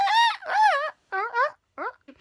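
A person vocally imitates a chicken with a series of loud, strained clucking and crowing calls in short bursts separated by brief pauses, the final call fading to a faint sputter.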